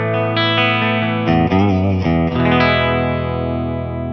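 Gibson VOS '61 reissue SG electric guitar through the clean channel of a Laney VH100R with a wah-style effect, playing sustained chords that sweep and swirl in tone, loud and continuous with no talking.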